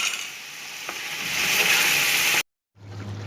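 Chicken frying with spices in a pan while being stirred, a close, steady sizzling hiss with scraping stir sounds that cuts out briefly, then returns fainter with a low hum.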